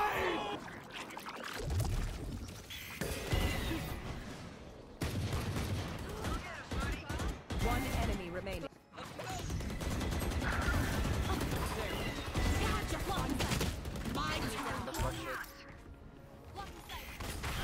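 Dense automatic and single gunfire from a team shooter video game, near and loud in rapid continuous bursts with crashes, under excited player chatter and laughter throughout.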